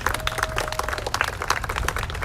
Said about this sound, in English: Let's give the Sunrise Movement and everyone who's out there a round of applause.